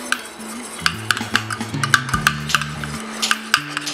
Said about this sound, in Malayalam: അപ്പം ഞാൻ ഇത് ഇട്ടിട്ട് നന്നായിട്ട് മിക്സ് ചെയ്യുക